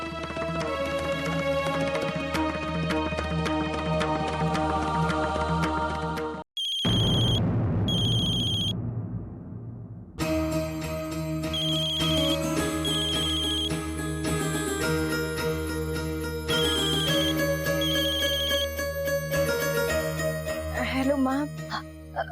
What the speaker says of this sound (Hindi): बेटा फोन क्यों नहीं उठा रही थी?